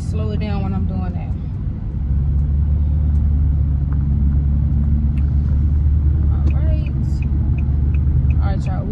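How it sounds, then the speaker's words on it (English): A car rolls over a cobblestone road, its steady low rumble filling the cabin throughout while someone talks over it. "I'm driving on cobblestone"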